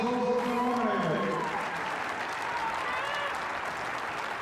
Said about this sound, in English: Big round of applause for those that were nominated